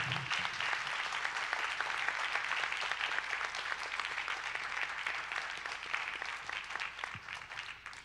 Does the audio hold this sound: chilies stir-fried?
no